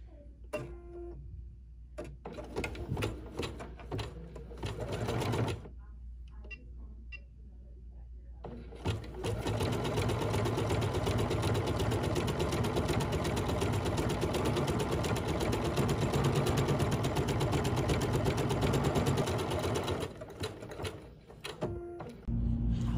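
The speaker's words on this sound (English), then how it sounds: "now it's going to stitch this and then leave an opening so that we can turn it inside out" A Bernette 79 sewing machine runs in embroidery mode, stitching a bib held in the hoop: a fast, steady mechanical whirr with rhythmic needle clatter, stopping briefly early on and then running continuously, fairly close.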